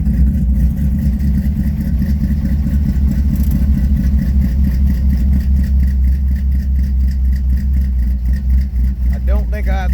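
A MOPAR 340 V8 engine, started cold, settles into a loud, deep, lumpy idle that runs steadily throughout, with a brief voice near the end.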